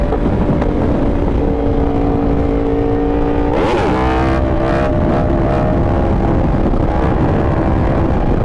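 A Charger pickup truck drives past during a group motorcycle ride, its engine note swelling briefly mid-clip above steady, heavy wind roar.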